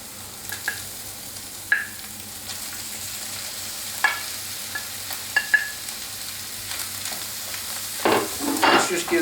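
Tomato is stirred in a hot pan with fish sauce for Thai scrambled egg, giving a soft background sizzle with distinct spoon taps and scrapes at intervals and busier stirring at the end.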